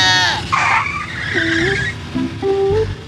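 A motorcycle skids to a stop near a zebra crossing in a radio drama scene: a loud tire screech and engine whine lasting about three seconds, ending with a heavy low thump.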